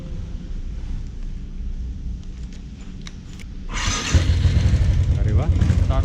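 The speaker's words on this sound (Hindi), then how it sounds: "ट्राई करके देखते हैं कि बाइक स्टार्ट होती है कि नहीं।" A Bullet motorcycle with a recharged battery is tried in heavy morning rain: a low rumble and rain noise come first, then the engine catches and idles loudly in a steady throb over the last two seconds, with a voice talking.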